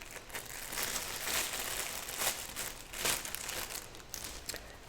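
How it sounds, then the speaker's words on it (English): A plastic bag is handled up close while preparing a wheatgrass flower arrangement, giving a continuous crinkling rustle with several louder crunchy swells and no talk. "And a plastic bag."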